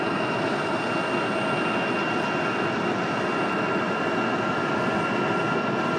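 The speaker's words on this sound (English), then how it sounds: "Little wing fluffage happening for Aer Lingus as they head back" An Aer Lingus jet airliner departs Raleigh-Durham International for Dublin, its engines a loud, steady, broadband roar that holds evenly throughout.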